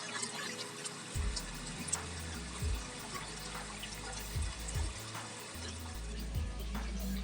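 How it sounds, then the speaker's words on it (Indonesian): Water gurgles and bubbles steadily through a pond filter and chamber setup, pushing air out in irregular low burbles and splashes under a continuous wash of flowing water, with no voices. "Jadi kita dapat menghasilkan gelembung udara tanpa menggunakan listrik teman-teman,"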